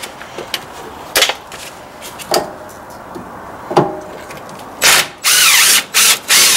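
A power tool with an Allen bit spins in short whirring bursts while removing the parking brake motor on a Mercedes GLC43. Brief pulses come first, then longer, louder runs near the end.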